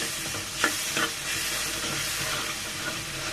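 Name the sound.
stirring and sautéing spice masala in a pan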